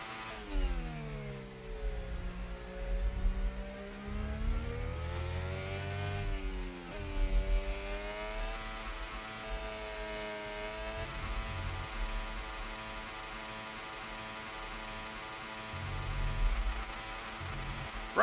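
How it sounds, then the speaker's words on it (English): A race car engine in a racing video game is revved hard and held near the limiter on a lap at Hungary, a loud continuous whine rising and falling in pitch without a break. "Completely rev the engine like hell."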